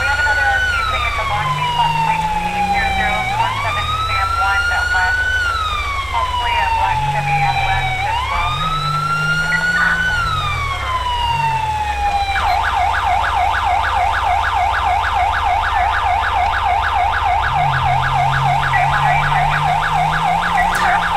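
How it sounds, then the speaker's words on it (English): A Federal Single PA640 police siren in GTA V with the LSPDFR mod, during a pursuit, cycles through a loud rising and falling wail and then switches to a rapid yelp, over a low engine rumble. "the sound here is Federal Single PA640. It's a siren I'm still using"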